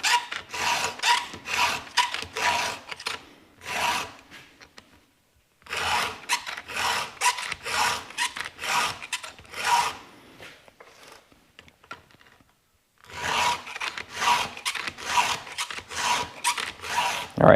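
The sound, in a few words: filing chainsaw cutters with Stihl 2 in 1 sharpener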